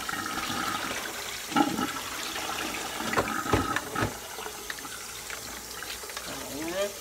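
Liquid fat from cooked oxtails being poured off in a kitchen, a steady watery trickle and splashing with occasional clinks of the pot, moderately close, with faint background voice.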